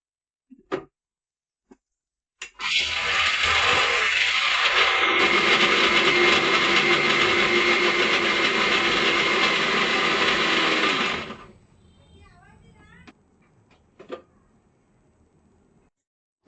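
A mixer grinder whirs loudly and steadily for about nine seconds, grinding coconut with kuzhambu masala and a little water into a fine paste, then cuts off, leaving a few faint clicks and light clatter.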